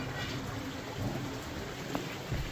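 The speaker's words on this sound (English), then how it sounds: "Yeah, still raining. Raining hard. Water's running." Heavy rain falling outside a gold mine, a dense, steady hiss of downpour with occasional low rumbles, continuous and fairly close, no talk.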